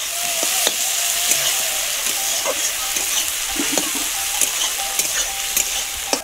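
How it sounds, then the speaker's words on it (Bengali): Onion and tomato masala frying in oil for a mutton curry, a steady close sizzle broken by repeated scraping stir strokes, with no talking. "তাহলে মশলাটা ভালোভাবে ভাজা হয়ে নিক"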